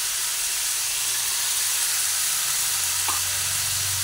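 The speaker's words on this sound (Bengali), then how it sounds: "এরপরে আমি এর মধ্যে যে আলুগুলোকে ভেজে রেখে দিয়েছিলাম সেই আলুগুলোকে দিয়ে দিচ্ছি।" Potatoes that were fried earlier are tipped into a pan for cucumber, sesame and poppy seed sosa and stirred, giving a steady close sizzle with a brief scrape of the spoon partway through.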